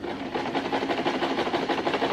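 Home sewing machine stitching the body of a homemade Spider-Man costume, a steady rapid mechanical whir with a fast even stitch rhythm, close and continuous throughout.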